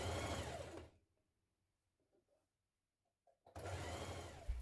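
A sewing machine hemming the bottom of a dress with a small double fold, running in a fast steady whir, stopping for a quiet pause with faint handling sounds, then starting up again loud and close.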